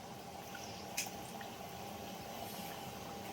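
Sanjori, a sweet semolina and jaggery pastry, frying one at a time in very hot oil, giving a soft steady bubbling sizzle with a faint crackle, quiet and continuous with no talking.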